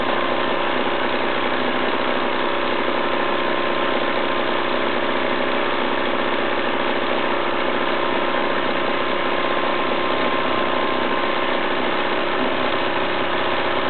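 A Wilesco D14 model steam engine runs steadily, a continuous close hiss and rapid mechanical chuffing that holds evenly throughout without pause.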